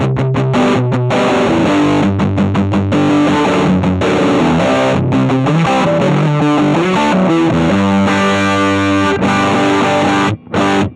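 A crunchy, distorted electric guitar tone from an Axe-Fx II amp modeler, loud and close, playing chords and riffs continuously with short pauses near the end, without any talk.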